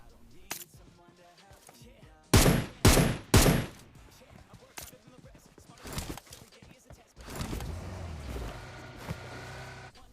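Gunfire from an M762 rifle in PUBG Mobile, a mobile battle-royale game on the Erangel map: a quick cluster of three loud bursts mid-clip, with scattered fainter shots and footsteps around them.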